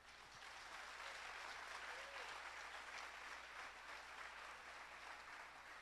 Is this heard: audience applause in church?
yes